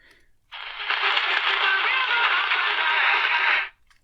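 A Radio Shack Jetstream 12-615 portable radio tuned to an AM broadcast around 640–650 kHz fades in abruptly, band-limited and slightly hissy, music with a narrow tinny tone, playing steadily for about three seconds before cutting off.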